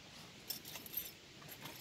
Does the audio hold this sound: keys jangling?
yes